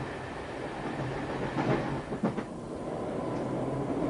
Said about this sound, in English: Some people go by train.